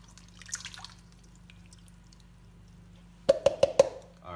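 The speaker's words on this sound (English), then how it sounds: "next I'm gonna pour it inside here" Wet meatloaf mixture is poured into a mixing bowl, landing as four quick, close wet plops near the end after a long stretch of quiet kitchen background.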